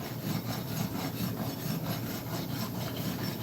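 Coarse rasp shaving wood under light pressure, a continuous scratchy rubbing with steady back-and-forth strokes, close and fairly loud throughout, no voices.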